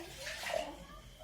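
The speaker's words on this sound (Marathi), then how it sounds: "कविता पाणी टाकायचं त्याच्यात थोडस खलबत्त्यात" A small trickle of water poured into a stone mortar holding ground spice masala, a brief soft splash heard faintly at low level.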